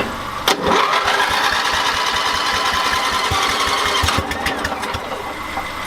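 Volkswagen Vanagon engine cranks with the clutch pressed in, a loud, close, rhythmic chugging starter turnover lasting several seconds without catching, then fading off.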